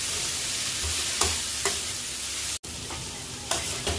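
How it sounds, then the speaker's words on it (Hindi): Finely chopped fenugreek leaves fry in a pan over a medium flame, making a continuous close sizzle broken by several scraping stirs and a brief dropout, with no talking. "थोड़ा देर मीडियम आंच में इसको फ्राई करेंगे।"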